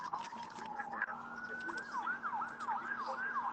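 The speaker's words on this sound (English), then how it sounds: "I think it's an ambulance." An ambulance siren passes on the street, its wail rising and then sweeping up and down in a steady repeating pattern, fairly loud over a low constant hum, with people talking nearby.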